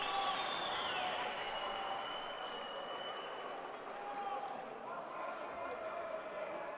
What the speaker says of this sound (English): So whoever Azerbaijan are fighting in this venue will get the support of the crowd